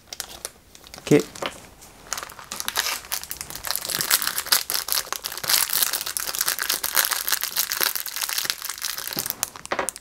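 A small plastic bag of model-kit parts for a 1/8-scale 1989 Batmobile is opened and crinkled close up, a steady rustling and crackling that runs for several seconds, with a brief spoken word.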